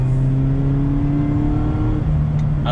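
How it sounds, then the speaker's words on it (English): A 2019 Mazda MX-5 Miata RF engine growls as it accelerates, a loud, close intake drone rising in pitch before dropping with a gear change, then climbing again. "I love the induction growl."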